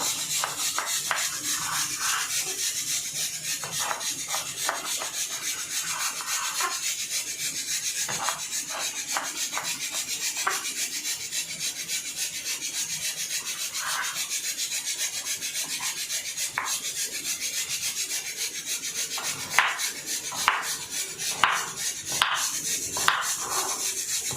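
A knife cutting breadfruit into small pieces, heard as repeated crisp chopping and scraping strokes, close and fairly loud, with a few sharper knocks toward the end.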